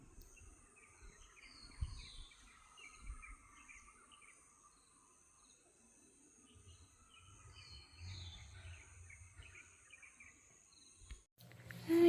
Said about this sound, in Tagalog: Pakinggan nyo na lang yung mga ibon.